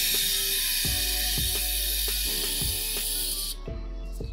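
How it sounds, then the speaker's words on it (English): Lube sprays in a steady close hiss onto a motorcycle chain as it is turned by hand, with soft ticking from the links, until the spray cuts off near the end. "you can spray the chain."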